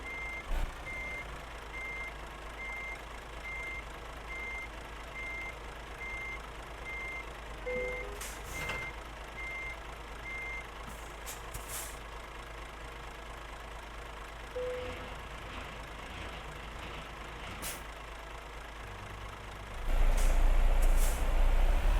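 Truck reversing to pick up a trailer in Euro Truck Simulator 2, with evenly spaced reversing beeps over a low idling engine, a couple of air brake hisses, and a louder engine surge at the end.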